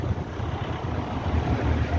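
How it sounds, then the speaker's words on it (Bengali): Strong wind blows outdoors on a cyclone night near the sea at Puri, a loud, continuous low rumble of gusts buffeting the microphone with no break. "তো ওয়েদার তো এখন মোটামুটি হাওয়া দিচ্ছে"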